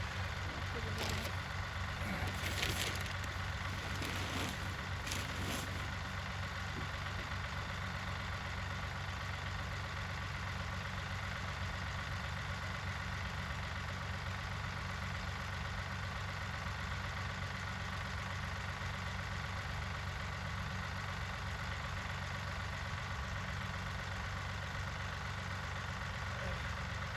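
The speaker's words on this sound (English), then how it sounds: "Man, I love my tractor. There it goes." A farm tractor idles steadily with a low, even engine rumble throughout, with a few brief higher clatters early on and no talk.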